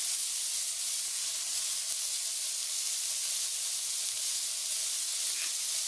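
Meat sizzles as it hits a hot pan, a steady close hiss of frying that holds evenly for several seconds with no talk over it.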